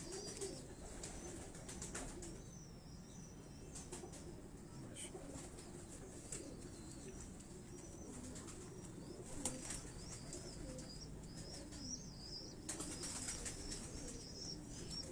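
Teddy pigeons coo softly in a loft, low throaty calls repeating among faint wing flutters and scattered chirps, with distant background murmur throughout.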